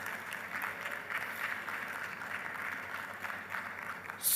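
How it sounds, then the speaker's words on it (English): Audience applause at the ICASA 2025 conference celebration marking SAA's 35th anniversary, a steady, dense wash of clapping from a crowd that holds at an even level throughout and swells slightly at the end. "Can we clap for the two of them, please?"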